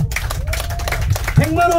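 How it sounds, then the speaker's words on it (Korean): Hands clap in a group of travelers gathered at a restaurant after a meal, steady and close, with voices talking over them throughout. "큰 박수 부탁드리겠습니다"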